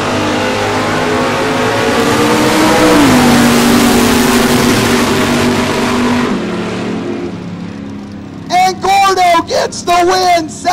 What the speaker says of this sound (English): The 57 Ford James in the left lane